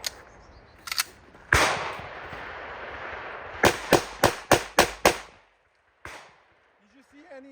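Handgun shots firing 115 grain rounds, an early pair of shots, then one loud report, then a quick string of six evenly spaced sharp cracks, followed by a single later shot, outdoors with faint voices.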